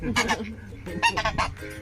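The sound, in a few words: goose honking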